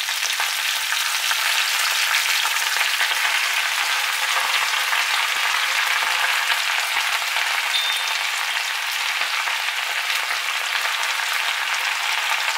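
Spinach sautéing in a pan with a little oil gives a steady, dense sizzle that holds at an even loudness throughout, with no voices.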